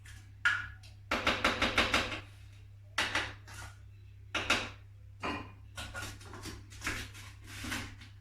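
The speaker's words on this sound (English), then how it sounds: "Use your wooden spoon again, or any form of spoon, just to make sure you get everything in the mix." A wooden spoon scraping and knocking around a bowl of cake batter, a series of rhythmic stirring strokes in quick clusters with brief pauses, close and moderately quiet, under a steady low hum.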